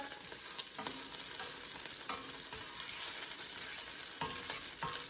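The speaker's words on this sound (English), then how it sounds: "whenever you work with cast iron, you always want it preheated, as I mentioned. I'm gonna just put a little more of this melted butter in here." Melted butter sizzling in a preheated cast iron skillet, a quiet, steady hiss broken by occasional soft clicks and scrapes.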